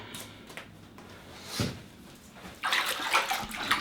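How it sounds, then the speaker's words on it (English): Shirts being swished by hand in a basin of soapy water, soft sloshing that swells into louder continuous splashing toward the end. "Swish it around, get the water a little sudsy."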